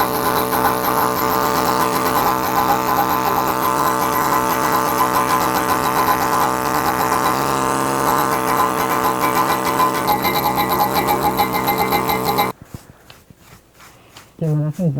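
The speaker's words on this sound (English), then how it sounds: "Now with the air hammer, there's all kinds of chisels and all kinds of things you could do." A pneumatic air hammer fitted with a bush chisel texturing stone, a dense, steady buzzing rattle running loud and continuous before stopping abruptly, followed by a short near-silent gap and a brief restart.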